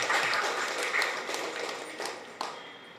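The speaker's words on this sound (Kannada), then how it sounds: "ಒಂದು ಚಪ್ಪಾಳೆ ಕೊಡಿ ಉಳ್ಳಾಲಕ್ಕೆ" Applause from an audience at an Ullal self-help group gathering, a steady wash of clapping that fades gradually over a few seconds, with one sharper clap near the end.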